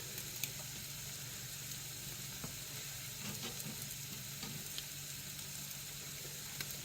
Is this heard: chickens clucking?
no